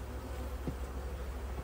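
Honey bees hum in a close, continuous buzz around a syrup top feeder during a subarctic hive inspection, with one louder bee passing briefly near the middle.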